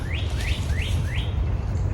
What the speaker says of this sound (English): Hearing the birds sing songs,